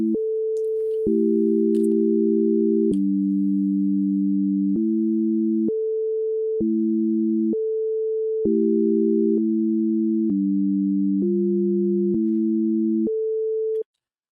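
Pure, hum-like sine-wave synthesizer tones play a slow, simple melody, each note held steadily before stepping to the next, with no voices.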